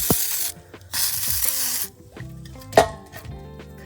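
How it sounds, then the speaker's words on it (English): Two bursts of aerosol spray hiss into a faulty switch in a cabin, each about a second long, followed by clicks and clinks of metal parts being handled. "So, I'm gonna spray it all right there."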